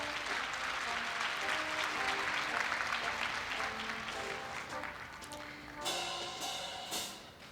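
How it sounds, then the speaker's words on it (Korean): Sustained applause from a large audience fills a university entrance ceremony at Korea University, steady and dense, easing slightly toward the end with a couple of brief swells. "큰 박수 부탁드립니다."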